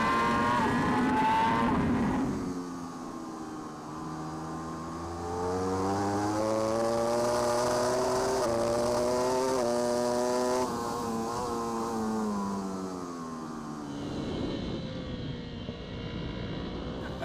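A British Superbike racing motorcycle at Snetterton, recorded onboard: a loud, high-revving engine climbs and drops through gear changes, with a sustained howl and wind rush and no voices.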